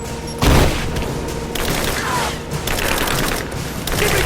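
Gunfire in the video game Rise of the Tomb Raider, in the Valley during a firefight: a booming shot opens, followed by rapid bursts and rattling automatic fire under a continuous battle din, fairly loud throughout.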